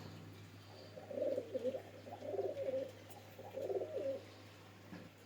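A caged pair of cockatiels, a grey male and a lutino female, at a bird seller in Khulna, gives several bursts of chirping calls in a row over a steady low electrical hum.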